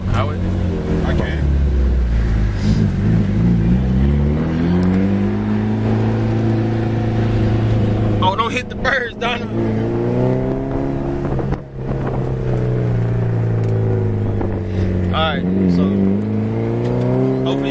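A Mitsubishi Evo 8 tuned to over 800 hp revs hard, its engine note repeatedly swelling and falling in loud rising and dropping sweeps, with wind buffeting and people talking at moments.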